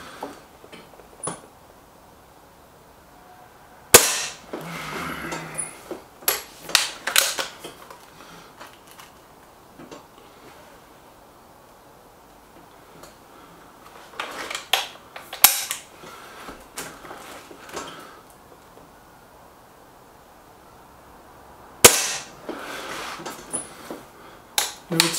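SMK XS36 air rifle firing pellets: a few sharp, close cracks spaced widely apart, with quiet stretches and faint handling clicks and rattles of loading in between.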